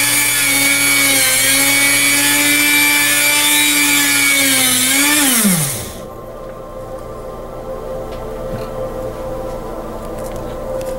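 A Dremel rotary tool spins a hand-drill DC motor used as a generator, giving a loud, steady high-pitched whine that drops sharply in pitch as it winds down and stops halfway through, leaving quiet background hum.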